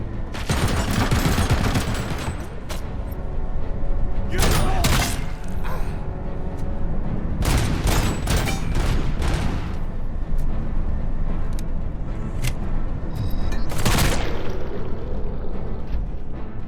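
Dense bursts of gunfire aimed at the player in a RoboCop video game, loud volleys of rapid shots repeating in clusters throughout, with machine-gun-like rattles and sharp cracks near and continuous.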